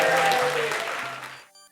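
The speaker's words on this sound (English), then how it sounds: "Big applause, please." Audience applause at the 2013 Minnesota Transracial Film Festival, a burst of dense clapping from a crowd that fades out within about a second and a half, with faint voices underneath.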